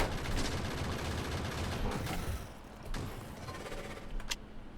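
Gunfire in the Factorio video game crackles as dense, rapid, fairly faint shots. A few sharper cracks stand out near the end.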